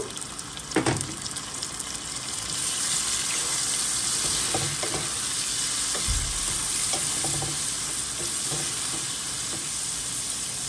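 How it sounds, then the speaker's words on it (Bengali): Shrimp frying in a pan as a little water is poured in, a steady hiss and sizzle with a few clinks and knocks of stirring near the start and scattered soft taps throughout. "মাছটা যখন হালকা ব্রাউনিশ কালার হয়ে যাবে, দেখতেই পাচ্ছেন একটু ব্রাউনিশ কালার ভাজা ভাজা হয়ে গেছে, সাথে আমি অ্যাড করব পানি।"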